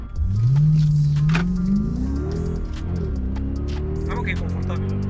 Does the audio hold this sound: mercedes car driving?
yes